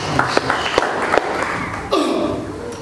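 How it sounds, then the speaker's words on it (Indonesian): A church congregation applauds, a brief wash of clapping in a large room with voices mixed in, swelling toward the end. "Kita beri tepuk tangan buat Tuhan Yesus."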